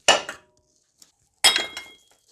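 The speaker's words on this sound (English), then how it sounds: "So I've got the crowbar like this against one of the bolts and the center of it. And in that way I can loosen the bolts." A crowbar levered against the water pump pulley bolts on a Mercedes S320 W220 gives two short clanking strikes of metal on metal, each followed by a quick rattle, separated by near silence.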